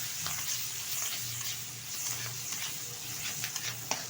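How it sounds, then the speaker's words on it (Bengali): Small shrimp fry lightly in oil with turmeric, making a soft, even sizzle with occasional spatula scrapes and taps near the end, with no voices. "হালকাভাবে চিংড়িটা ভাজা হয়ে গেছে।"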